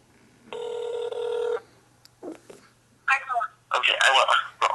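A telephone on a call gives one steady ring tone, then a short pause, and people's voices come through the line afterward.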